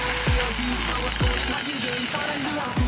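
A repaired Lotus angle grinder runs on test after new bearings and carbon brushes are fitted, a steady close motor whine with a few brief clicks or knocks, no talking over it.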